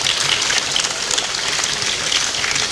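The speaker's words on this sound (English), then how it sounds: "Please clap for yourselves" An audience applauds continuously, a dense wash of many hands clapping at once that stays steady and fairly loud throughout, with no speech on top.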